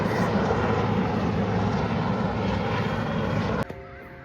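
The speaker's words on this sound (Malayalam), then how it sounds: "ഹെലികോപ്റ്റർ പോകുന്ന വിഷ്വൽസ് ഞാൻ എടുത്തിട്ടുണ്ട്" A helicopter flies over during an Indian Navy show in Trivandrum, making a loud, steady engine drone that fills the air and then cuts off abruptly near the end.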